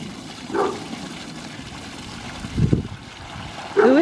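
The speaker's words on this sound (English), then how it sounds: "is going to pour that water into the bucket" Hot, steaming water is poured into a bucket, heard as short splashing bursts at separate moments with quiet gaps between them, fairly close and moderately loud.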